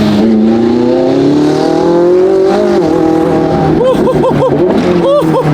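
A Lamborghini SVJ with a Gintani F1 exhaust: a loud, high-revving engine drones and climbs in pitch, then sharp repeated revs blip up and down near the listener.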